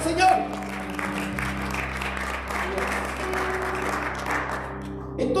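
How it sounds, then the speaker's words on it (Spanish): A church congregation claps in praise during a spiritual workshop, a steady wash of applause over a sustained musical hum, holding evenly before fading at the end. "Ese aplauso es para el Señor."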